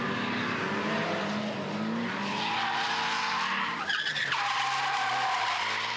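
A drifting car's tires squeal and skid continuously for several seconds over a loud engine, the screech shifting in pitch as the slide changes.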